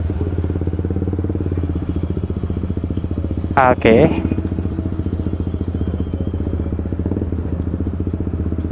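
Several motorcycles idle together at a night meetup in Cikarang, a steady low rumble with rapid engine pulses throughout, while a voice speaks briefly over it and a short sharp burst of engine revving cuts in midway.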